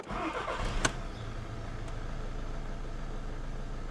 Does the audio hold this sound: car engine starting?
yes